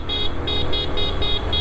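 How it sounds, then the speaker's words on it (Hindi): The horn of a 2026 TVS XL100 Heavy Duty moped gives a rapid string of about six short, evenly spaced toots over a steady background rumble, heard close and fairly loud. "हॉर्न अच्छा है"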